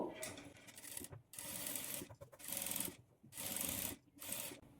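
Sewing machine stitching along a blouse edge in short bursts, a quiet rapid mechanical whir starting and stopping four or five times with brief pauses between runs.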